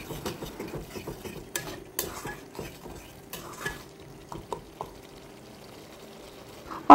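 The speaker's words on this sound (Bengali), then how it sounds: "এখন এগুলোকে খুব ভালো করে কষে নিতে হবে।" Onion and tomato paste with salt is stirred and fried in a pan, giving steady close scraping strokes over a soft sizzle with occasional sharp utensil knocks.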